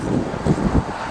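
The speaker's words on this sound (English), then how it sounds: "It's windy." Wind buffets a microphone outdoors at an RV park, producing a few low rumbling gusts over about a second.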